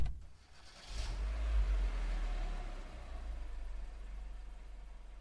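A family car starts and pulls away with a low engine rumble that swells after a second, then settles into a fading drone as it drives off.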